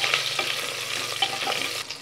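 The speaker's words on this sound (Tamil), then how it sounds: "இதோடவே 2 வரமிளகாய் எல்லாமே சேர்த்துட்டு லைட்டாக வதக்கி விட்டுக்கலாம்" Small onions and dried red chillies sauté in a pan with a close, continuous sizzle, punctuated by quick scraping strokes of a spoon stirring them.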